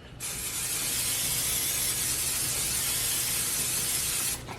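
A continuous hissing spray of cooking oil from an aerosol can onto a baking dish, steady and close, lasting about four seconds before cutting off abruptly.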